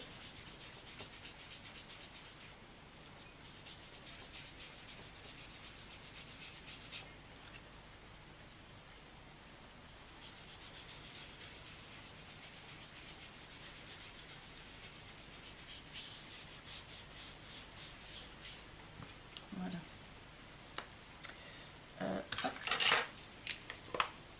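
Distress ink is blended onto a handmade card with a soft, steady rubbing and dabbing that goes on for a long stretch, very quiet and close, with a few louder taps and scrapes near the end.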